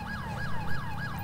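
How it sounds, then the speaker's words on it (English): A police car siren from the GTA 5 game wails in a steady, fast repeating rise-and-fall cycle, loud and continuous over a rumbling engine. "I'm gonna go back and change my annoying ass siren"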